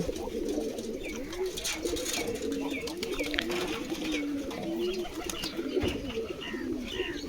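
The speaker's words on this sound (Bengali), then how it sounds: "এই দেখছেন আমার কবুতর খাচ্ছে" A pigeon coos steadily up close while feeding, soft repeated low calls running through the whole stretch over a busy background of faint chatter and clatter.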